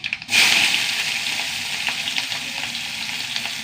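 Small onions (shallots) dropped into hot oil set off a sudden loud sizzle that settles into steady frying, with light stirring sounds and no voices.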